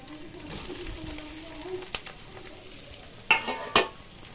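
Chicken pieces go into a frying pan for chilli chicken with a low continuous sizzle, a brief voice near the start, and a couple of sharp clattering stirs toward the end.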